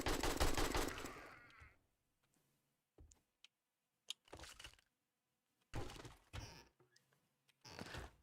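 Gunfire in the zombie survival game 7 Days to Die: a rapid burst of shots at the start, then several separate loud bangs with silence between them, no voices.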